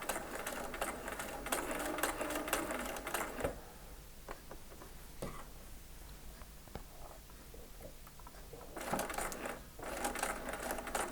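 Sewing machine stitching an eight-point star quilt block at a reduced stitch length, a close, steady whirring run at the start, a quieter stretch with faint clicks, then a second burst of stitching near the end.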